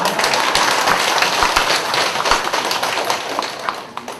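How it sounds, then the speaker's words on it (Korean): An audience at a marriage-counselor training lecture claps: loud, dense, continuous crowd applause that fills the whole stretch and fades slightly near the end. "이때 박수를 치는 거예요"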